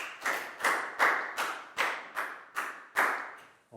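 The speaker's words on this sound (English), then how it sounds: "High five and a big round of applause for Nadia" About eight separate bursts of clapping from a small classroom group of Year 4 pupils, each short round starting sharply and fading. The claps are close and fairly loud.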